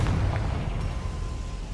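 A Confringo fire-blast spell cast in Hogwarts Legacy, a loud, dense rumbling burst with a booming low end that sustains steadily for under two seconds.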